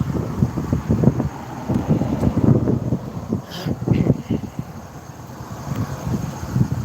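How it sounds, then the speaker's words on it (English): Gusty wind rumbles and buffets the microphone in uneven low pulses, loud and close, with no one speaking. "it's a little windy"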